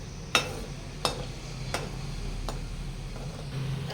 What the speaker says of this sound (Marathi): आता हे राहिलेलं तूप आहे ना त्याच्यात आपण हे बदाम आणि काजू तळून घेऊया